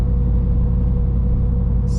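Car exhaust fitted with a DFM hack at low RPM, a steady deep rumble and drone sustained throughout, close and fairly loud with no break.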